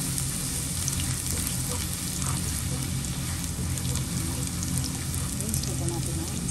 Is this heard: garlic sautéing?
yes